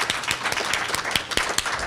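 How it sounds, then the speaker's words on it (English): An audience at a talk on Black farmers building community applauds briefly, a soft, steady patter of many hands clapping at moderate distance, with no talk over it. "I'd like to give you all a round of applause before we start taking questions."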